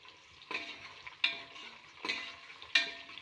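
Brinjal and raw mango frying in a pan sizzle softly while a spoon stirs them in four distinct scraping strokes, each stroke bringing a short burst of crackle before it fades back to a low hiss.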